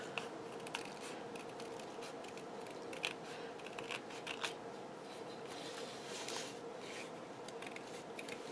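Scissors snip through paper for a handmade greeting card, faint, quick crisp cuts with light rustling, close up and without speech.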